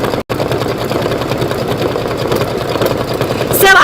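An embroidery sewing machine stitches lettering with a loud, close, continuous rhythmic chatter, briefly broken by one short gap near the start.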